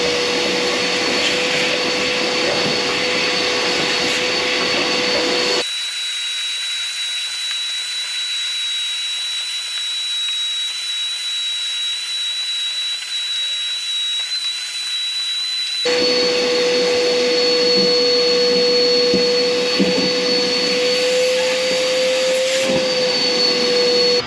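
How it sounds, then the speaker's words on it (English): A shop vacuum cleans out the cab of a Caterpillar 236 skid steer with a loud, steady roar. Midway it drops to a quieter hum for about ten seconds, then returns to full strength. No one speaks. "I got everything vacuumed out"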